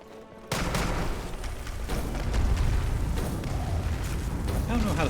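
Explosions in Skyrim while fighting a Draugr: a sudden loud blast opens into a sustained rumbling, crackling roar, with further booming impacts layered over continuous game noise.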